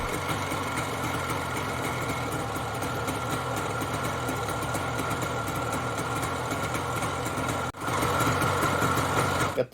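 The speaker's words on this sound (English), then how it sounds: "it actually started to run and idled pretty good" An old snowmobile engine runs and idles steadily after a gas can is rigged up, a continuous buzzing drone with a brief dip and a slightly louder surge near the end.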